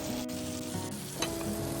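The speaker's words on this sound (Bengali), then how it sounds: "এবার ঢেকে নিয়ে আরও সাত আট মিনিটের জন্য ভেজে নেব" Eggplant pieces fry in oil in a covered pan, a steady close sizzle with light crackling and no talk.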